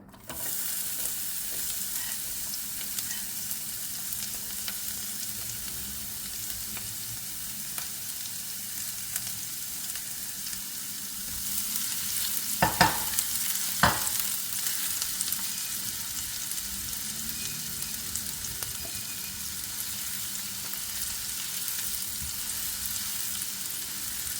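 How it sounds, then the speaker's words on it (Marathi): Onion sautés in hot butter in a pan for dabeli, giving a steady close sizzle that lasts throughout with a couple of brief sharp clinks midway. "ते बटर जसं गरम होईल तर सर्वात प्रथम आपण त्यामध्ये आपण घेतलेला कांदा पहिले परतवून घ्यावा"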